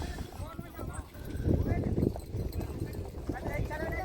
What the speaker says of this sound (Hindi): तो अभी सभी घोड़े लाइन में इकट्ठा हो रहे हैं।